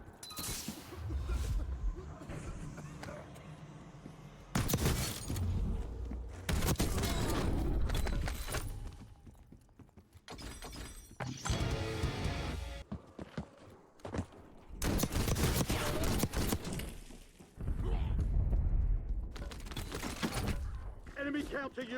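Bursts of shotgun fire in Call of Duty Black Ops 6, heavy loud blasts arriving in irregular clusters separated by quieter gaps with faint mechanical clicks and movement between them.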